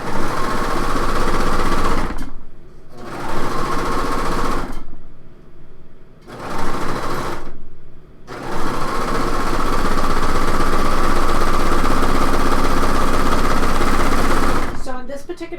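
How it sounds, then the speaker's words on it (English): A serger overlocks the seams of a two-piece blouse sleeve, its motor whirring loud and close in long bursts broken by several short pauses. "I'm serging the whole thing together"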